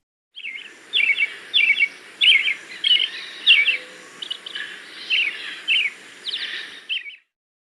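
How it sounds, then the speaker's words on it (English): A thrush sings a steady run of varied, fluty phrases in quick succession, close and continuous over faint background noise. "Thrush."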